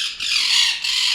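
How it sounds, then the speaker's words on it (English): Pet birds at home squawking loudly and continuously, a dense, harsh screech that fills the short moment with brief dips, no talking. "Pinche pájaros"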